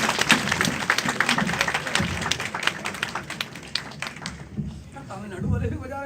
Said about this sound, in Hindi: तमिलनाडु वाले भी बजा रहे ताली